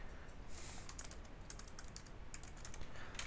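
Quiet keyboard typing close by, a quick irregular patter of key clicks in short bursts with brief pauses.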